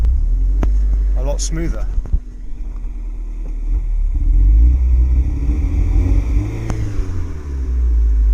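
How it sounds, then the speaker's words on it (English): A Toyota MR2 Spyder MK3 engine idles with a deep, close rumble and rises in a few revs. Someone talks over it briefly near the start. "all I did was start it and then just rev it"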